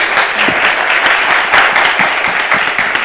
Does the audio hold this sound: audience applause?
yes